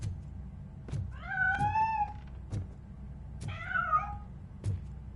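A cat in the Robocop video game meows twice, a long, drawn-out call and then a shorter one, clear and close, with dull thumps in the background and no one talking.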